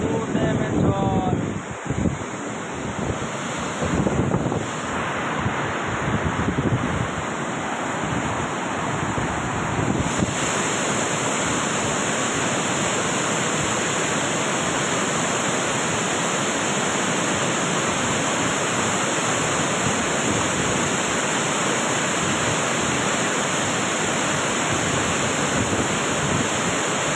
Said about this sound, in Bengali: দেখো কীরকম জল যাচ্ছে এই ড্যামটা থেকে।